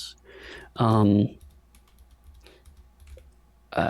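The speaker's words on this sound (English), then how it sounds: "so I'm just typing with one hand" Irregular keystroke clicks from one-handed typing on a computer keyboard, close by, mixed with a person talking.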